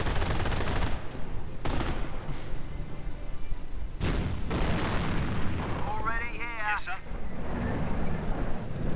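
Artillery shells and gunfire boom and crackle through a WWII strategy game battle, with British commandos facing a Panther tank and Grenadiers. Dense, continuous explosive rumble runs throughout, with sharp blasts near the start and middle, under a commentator's steady talk.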